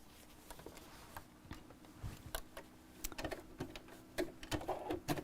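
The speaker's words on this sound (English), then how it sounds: "So I'm just going to sew down here." A sewing machine stitches down fabric on a small box bag, a soft mechanical whir with scattered clicks and taps, growing busier and louder toward the end, with no talking.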